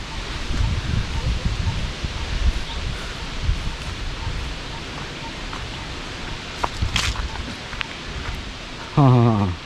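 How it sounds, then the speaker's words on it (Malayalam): Steady wind rushes through the leaves of a large banyan tree beside ruined stone temples, a broad continuous rustle with gusts that swell and ease, and a brief voice near the end. "നല്ല കാറ്റുണ്ട് കേട്ടോ മുമ്പിൽ തന്നെ വലിയൊരു ആൽമരം കാണാൻ"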